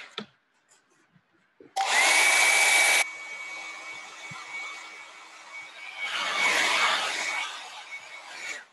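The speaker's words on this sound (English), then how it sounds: "the hair dryer" A hair dryer switches on with a loud, steady whoosh, drops to a lower hum, then surges louder again near the end.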